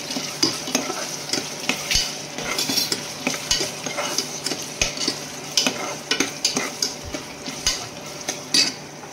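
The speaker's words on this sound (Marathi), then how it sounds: "थोडंसं असं परतून घ्यायचं टोमॅटो पण." Tomato is sautéed into a chicken masala, with a spoon repeatedly scraping and knocking the pan over a continuous sizzle. The stirring is rhythmic and close, and there is no talk.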